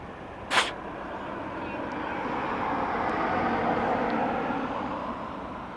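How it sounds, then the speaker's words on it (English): A Boeing 737 from Stansted descending on approach to Dublin Airport, a faint, distant jet engine roar swelling gradually and holding steady, with a brief sharp knock near the start. "737 coming in from Stansted in London, flight FR210"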